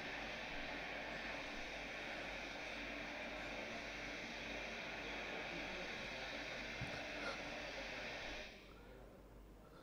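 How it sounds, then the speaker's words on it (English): Natural gas jet fire from a pressurized release, a steady broadband roar held constant for about eight seconds, then dropping sharply as the flow is cut near the end. "This is a small video showing jet fire."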